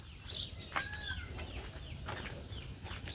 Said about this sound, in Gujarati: મોરલા કિલોર કરે સાંભળો